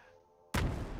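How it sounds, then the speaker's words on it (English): A grenade explosion in the Unreal Engine 5 Lyra game bursts in after half a second of near silence, a single loud, broad blast that decays into a rumbling tail. "Now we can run in here and we can throw our grenades"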